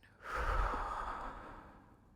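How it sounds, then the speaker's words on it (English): A slow, deep breath drawn in and let out during a guided meditation, heard alone: a short inhale then a long, soft airy exhale that fades over about two seconds. "Once more, deep breath in, longer breath out"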